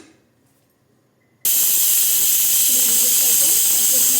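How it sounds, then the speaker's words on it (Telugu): After a short quiet moment, a pressure cooker cooking sweet potato payasam bursts into its whistle with a loud, sharp hiss of escaping steam that holds steady to the end. "త్రీ విజిల్స్ వచ్చే వరకు దీన్ని ఉడకబెట్టుకుందాం"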